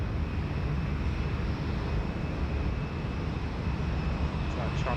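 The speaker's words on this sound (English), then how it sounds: "Comes our beautiful Latam 787-9. Coming out to play, heading out for a runway 34 right departure this morning." A LATAM Boeing 787-9 airliner taxis out toward runway 34 right for a morning departure at Sydney Airport, giving a steady, even engine rumble and roar from a distance that holds level the whole time.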